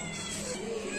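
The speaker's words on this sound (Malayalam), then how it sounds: "ഇതാണ് നമ്മുടെ വീട്ടിലെ പൂച്ചകൾ" Pet house cats meowing indoors, a short close meow lasting about a second with a slight caterwauling edge.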